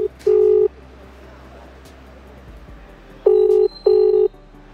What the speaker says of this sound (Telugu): సో రింగ్ అవుతుంది.